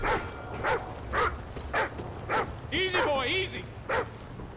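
A dog in the video game Xenophobia 2 barks repeatedly in a steady rhythm of close, sharp barks roughly every half second, with a short whine in the middle and game noise beneath.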